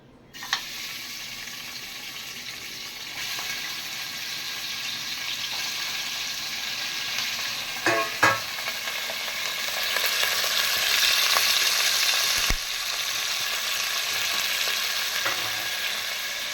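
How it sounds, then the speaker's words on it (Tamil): Goat mutton sautéing in oil in a pan, a steady close sizzle throughout with a few brief stirring knocks, no talking. "இப்போ எண்ணெயில் நல்லா வதக்கிக்கணும்"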